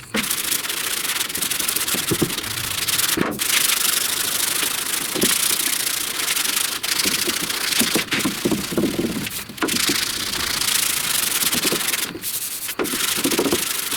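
Steady, continuous rasping of a sanding block worked over body filler on a truck cab corner during dent repair, close and loud with brief pauses between strokes and no talking.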